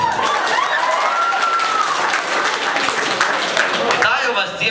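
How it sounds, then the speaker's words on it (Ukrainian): An audience at a KVN comedy team competition breaks into loud, sustained applause that fills the hall, with voices and a few shouts carrying over the dense clapping. "Але подивіться, як вони нам аплодують."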